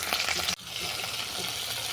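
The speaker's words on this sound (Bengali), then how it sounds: "দেবো চিংড়ি মাছ" Shrimp sizzle in hot oil with whole garlic and nigella seeds. The frying crackles loudly and steadily, with a sharp burst and a brief dip near the start, and no voices are heard.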